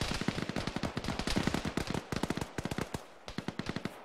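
Gunfire in the military shooter Arma during a firefight: rapid, crackling bursts of automatic fire in quick rhythmic volleys, loud and fairly close, with a brief lull before more shots resume, no voices present.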